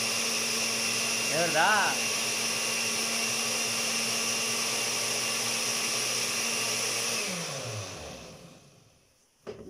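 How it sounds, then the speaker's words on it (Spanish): A kitchen blender whirs loudly, blending rice, milk and cinnamon, a steady high motor whine that runs for about seven seconds before winding down and stopping, with brief talk at the start and a clunk at the end. "Arroz, leche y canela licuó ahí."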